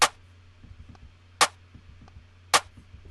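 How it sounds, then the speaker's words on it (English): Punchy snare drum sample in FL Studio for a hard bouncy UK garage beat, three sharp cracking hits evenly spaced over a faint low hum and soft ticking in between. "Next up, we've got our snare."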